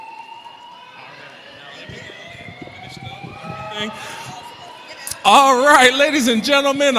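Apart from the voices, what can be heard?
fire alarm going off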